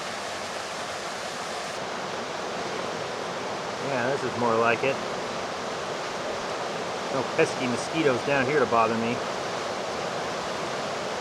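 Steady rushing water from the middle fork of the Kings River in Tehipite Valley fills the background as a constant broadband roar, with someone talking over it partway through.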